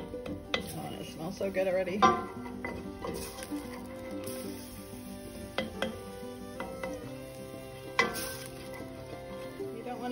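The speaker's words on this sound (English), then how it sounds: "I'm just gonna fry that up a little bit." Garlic frying in a pot as the base for Czech garlic soup, with a soft, steady sizzle under clinks and stirring scrapes of a utensil against the pot, close by, while a voice speaks briefly.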